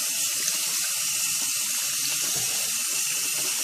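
Chicken feet are rinsed under a steady stream of running tap water, with a constant close rush of water and irregular small splashes and clatters from the handling.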